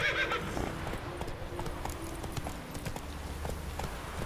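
A horse galloping in The Witcher 3, rapid clip-clop hoofbeats close up with a short whinny at the start, over faint game ambience, no talk.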